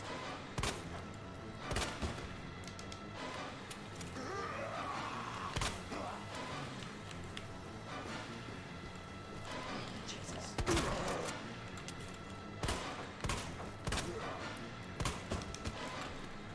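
Scattered handgun shots from Resident Evil 2 Remake, sharp reports spaced irregularly over a quiet background, with a quicker cluster near the end.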